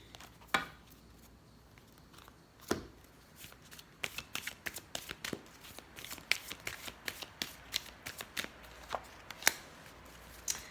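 Tarot cards shuffled by hand, a run of quick riffling flutters and soft slaps that starts sparse, then turns dense and rhythmic, close and fairly quiet with no talking.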